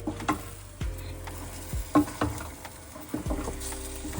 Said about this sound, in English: Next we go in with our protein, the fish and the meat. Mix thoroughly.